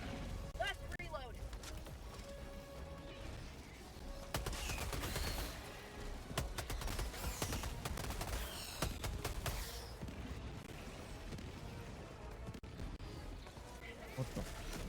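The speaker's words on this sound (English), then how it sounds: "I shot 5 rockets at that Titan." Rapid gunfire and rocket launches hit a Titan in a shooter video game, with sharp repeated bangs and explosions throughout. A player talks over the battle.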